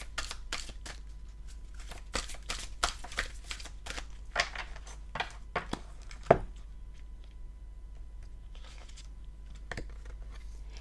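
Tarot cards being shuffled in quick bursts of crisp riffling flicks, close and fairly quiet, with brief pauses between runs and one sharper tap partway through.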